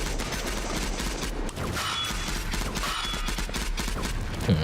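Rapid gunfire from the THYSIASTERY video game fills the whole stretch in a dense, continuous burst of shots and mechanical clatter, loud and close with no talk.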